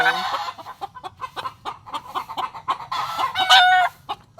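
Steady, rhythmic clucking from nearby chickens, ending in a sharper, higher squawk; no voices.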